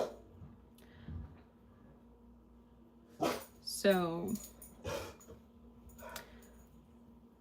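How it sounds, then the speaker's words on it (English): A pet dog barks a few sharp times indoors, with a whimpering, yipping run in the middle. It is fairly distant and quiet against a faint room hum, and a person says a word. "She's just gonna bark."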